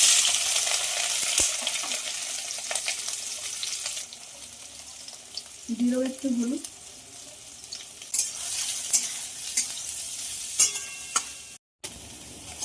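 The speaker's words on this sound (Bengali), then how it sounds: "তেল গরম হয়ে গেছে এবার সয়াবিনটা ভাজার জন্য ছেড়ে দেবো" Soybean chunks fry in hot oil in a wok, giving a continuous bubbling sizzle with stirring scrapes, close and fairly loud; a brief voice speaks over it.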